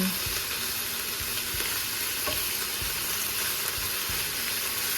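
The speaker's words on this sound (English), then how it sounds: "we're going to let them fry up, probably just for a few minutes" Beef pieces for hibachi fried rice sizzle loudly and steadily in a pan, with a regular series of dull knocks from stirring.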